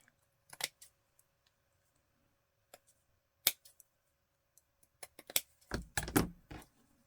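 Scissors snip through small scraps of lace, a few sparse, quiet cuts near the table, ending in a louder cluster of rustling and handling.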